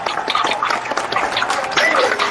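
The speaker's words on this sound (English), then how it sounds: "Big round of applause, for Myron." An audience at an award ceremony applauds Myron, a dense and steady wash of many hands clapping at once that holds without letting up.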